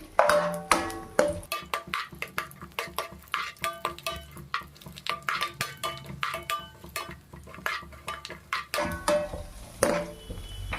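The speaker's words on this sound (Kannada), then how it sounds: "ನಾನು ಈ ಥರ ಸ್ವಲ್ಪ ತುಪ್ಪದಲ್ಲಿ ಫ್ರೈ ಮಾಡ್ಕೊತಾ ಇದ್ದೀನಿ" Banana frying in ghee in a pan, with repeated sharp clinks and scrapes of a utensil stirring against the metal pan over a faint sizzle, steady and close, no voices.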